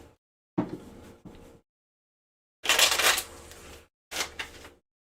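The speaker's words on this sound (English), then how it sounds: "And then I get to shuffle." A deck of cards is shuffled during a tabletop card game. Three separate bursts of crisp, rustling riffles come up close, with short silent gaps between them and no talking.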